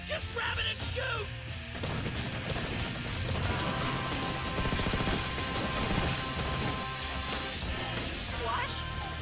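Bursts of rapid gunfire and crashing action from Red vs Blue Halo machinima, loud and dense, with characters shouting briefly under the shooting.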